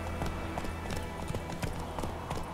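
A horse gallops in The Witcher 3, quick rhythmic hoof clip-clops thudding over a quiet game background, fairly faint and steady throughout without talk.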